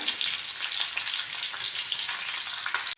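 Bitter gourd (karela) sautéing in a pan gives a steady, close, dense sizzle with no voices, cutting off abruptly at the end.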